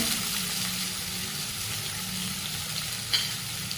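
Green chilli pieces and potato sautéing in a pan for sea fenugreek bhaji, giving a steady close sizzle and fry with a brief sharp clink near the end, no voices.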